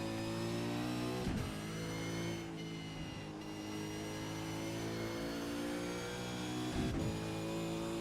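Racing car engine at Zandvoort in a sim racing game, a steady loud engine drone with several sharp revving surges and gear shifts, no voices.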